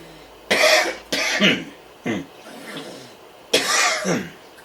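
Several harsh coughs in separate bursts, close and fairly loud, with short quiet pauses between them.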